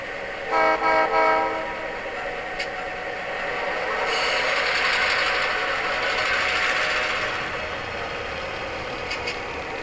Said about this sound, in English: as our train is coming around our cut of cars